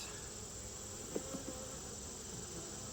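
Honey bees hum and drone steadily around an open beehive during a hive inspection, a continuous insect buzz with a couple of brief faint clicks in the middle and no voices.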